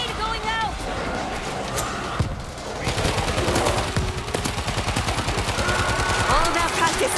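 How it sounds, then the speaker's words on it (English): Dense gunfire rattles throughout a World War Z Aftermath Tokyo mission, with a grenade burst folded into the continuous loud shooting and shouting from players and game characters over the top. "Grenade going out!"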